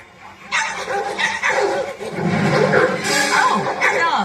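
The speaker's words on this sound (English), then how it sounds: "Oh, dogs." Several dogs bark and yip excitedly during a chase in an animated film, loud and close, with overlapping voices and music mixed in.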